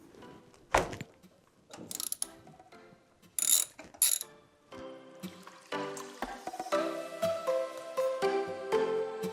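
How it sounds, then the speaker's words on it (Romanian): A wrench works the oil filler bolt on a GY6 4T scooter engine, producing close metallic ratcheting clicks and clanks in irregular bursts, then a stretch of lighter tinkling mechanical noise. "Voi desface prima dată șurubul de umplere."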